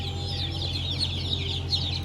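Chickens cluck steadily on a Turkish poultry farm, several birds calling in overlapping bursts under a constant low hum, fairly near and even in level throughout.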